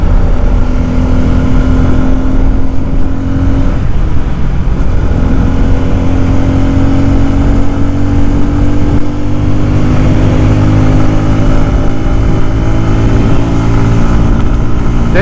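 A 2024 Bajaj Pulsar N250 naked motorcycle accelerating on the road, its engine note climbing steadily over about fifteen seconds under loud, constant wind rush, with no talk.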